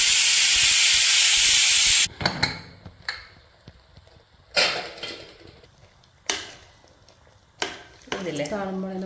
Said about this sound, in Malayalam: കുക്കർ 1 വിസിലടിച്ചിട്ട് എയർ നമുക്ക് കളഞ്ഞു കൊടുക്കാം